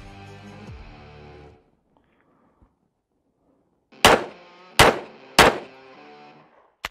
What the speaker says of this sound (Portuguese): Vamos acelerar um pouco agora o nosso disparo